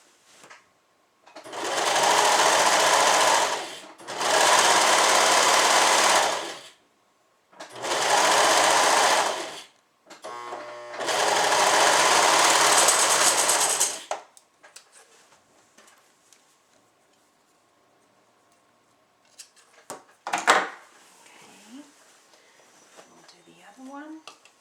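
Sewing machine stitching a suit seam in four loud, steady runs of a few seconds each, separated by brief pauses, followed by quieter handling noises and a short knock near the end.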